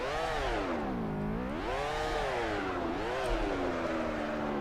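A Formula 1 car's engine revs in the video game BeamNG, a loud, continuous, whining tone that sweeps up and down several times with no pauses and no talk.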